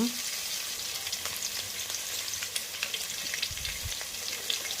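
Chopped onions fry in an oil-filled pan, giving a steady, close sizzle with faint crackles and the occasional stir throughout, and no voices.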